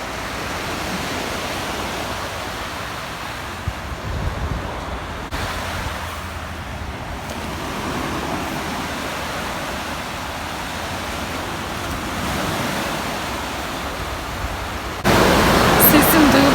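Sea waves wash in a broad, steady rush of surf near Mersin, a continuous hiss with gentle swells in loudness and a louder burst toward the end, with faint voices in the background.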